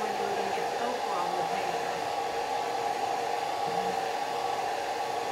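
A hair dryer blows steadily on a wet watercolor painting of a vase of flowers, a close, continuous broadband whoosh with an even hum that holds without a break.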